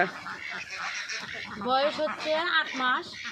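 Ducks on a duck farm quacking close by, a few overlapping nasal calls in the second half, with a voice talking underneath.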